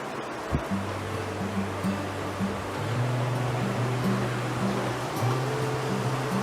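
Water running through Hezekiah's tunnel, the ancient rock-cut channel toward the Pool of Siloam, a steady loud rushing flow echoing close by in the enclosed passage, with a low droning hum running underneath.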